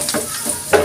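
Garlic frying in oil in a tilted frying pan, cooked until toasted; a steady soft sizzle with brief stirring scrapes, close and alone.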